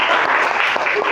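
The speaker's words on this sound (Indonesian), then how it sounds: "Tepuk tangan untuk kelompok 1." Applause for a student group during a classroom lesson, a dense steady patter of clapping filling the room for about a second with no break.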